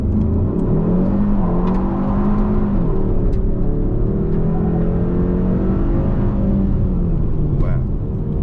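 Engine of a 2022 Hyundai Sonata N Line revving and accelerating hard under launch control, a loud close rising drone heard from inside the cabin with the windows up, pitch climbing and sweeping through gear changes.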